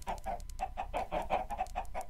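Chickens in Minecraft cluck in a quick run of short, repeated clucks spaced a few per second, clear and fairly close with no talk over them.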